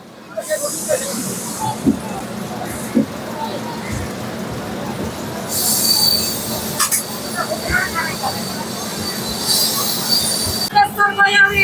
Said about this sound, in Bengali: ট্রেন নির্ধারিত সময়ে আটটা বেজে পঞ্চাশ মিনিটে বর্ধমান স্টেশন থেকে ছেড়ে বেরোলো